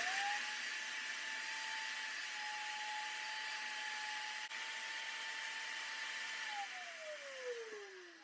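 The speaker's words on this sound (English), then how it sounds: "So now I've set up the plunge router and I'm going to freehand the opening." A plunge router cuts an opening freehand in wood for a pottery stool build, giving a steady high whine for several seconds that then winds down in pitch, with no talking.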